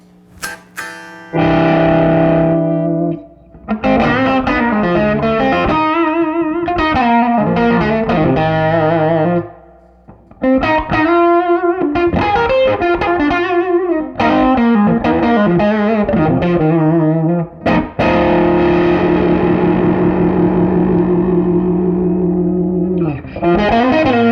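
Electric guitar through a Crazy Tube Circuits Killer V tube preamp pedal, played loud with warm overdriven tone, strummed chords and short riffs ringing out with pauses between phrases, no voices.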